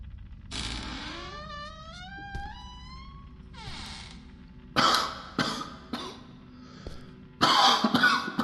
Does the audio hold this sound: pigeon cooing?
no